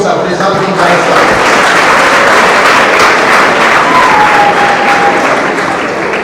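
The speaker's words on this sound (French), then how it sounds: "je voudrais vous inviter encore une fois à applaudir donc sa présence dans l'instant" A crowd applauds loudly and steadily at a French-language political speech, with a voice talking over the clapping.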